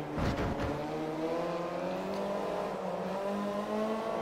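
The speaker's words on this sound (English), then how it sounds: "This car is so much quicker at accelerating than the Mercedes was." A MINI John Cooper Works accelerates in the racing game Forza Motorsport 3, its engine tone climbing steadily through rising harmonics, fairly quiet and continuous, with a brief burst of noise at the start.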